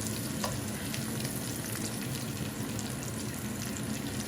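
Onions frying in a pan as they are turned over, a continuous loud sizzle with a busy crackling texture throughout.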